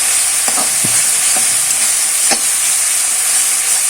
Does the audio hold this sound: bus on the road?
no